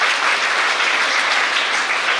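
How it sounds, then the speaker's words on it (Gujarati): An Independence Day celebration crowd gives a guest a warm welcome with dense, sustained applause, loud and steady throughout the short burst. "આપણે સૌ એમને તાળીઓથી વધાવી દઈએ"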